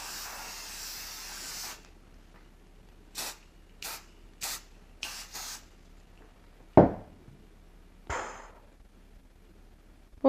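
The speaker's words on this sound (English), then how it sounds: "we got this highly toxic hairspray here, and we're going to go ahead and spray it all around." Highly toxic hairspray sprayed around a room from an aerosol can, first a long continuous hiss, then five short separate bursts, followed by a sharp knock and a final brief spray, close and fairly loud.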